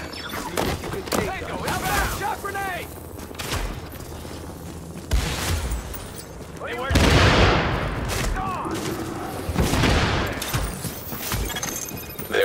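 Grenade blast and rattling gunfire in The Division, a tactical shooter game, with loud broadband bursts and thuds under urgent voices calling out over the combat.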